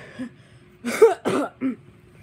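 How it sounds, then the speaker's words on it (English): A few harsh coughs in close succession, close by, with a faint throat-clearing sound at the start. "I'm like genuinely coughing."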